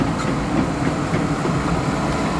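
A Komatsu PC200-5 hydraulic excavator's diesel engine runs at a steady working speed of about 2,200 rpm, a continuous, loud, close mechanical drone with no speech.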